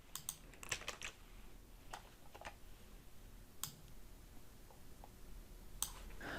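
Faint, quick typing on a computer keyboard, with scattered light key clicks and taps at an uneven pace over a quiet background.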